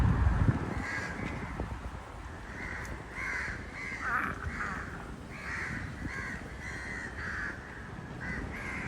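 Many crows caw repeatedly in an outdoor roost in Port Louis, Mauritius, a dense overlapping chorus of harsh calls at moderate distance over steady background noise.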